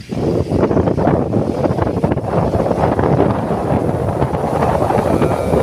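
Strong cold wind on Mount Samat in Bataan, by rice fields, buffets the microphone, a loud continuous rumbling roar with gusty surges.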